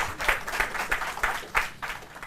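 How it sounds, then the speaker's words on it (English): Audience applause at a university law competition between KNUST and Mountcrest University College, short and close, with clapping swelling in regular pulses for about two seconds. "A round of applause for Victoria once again."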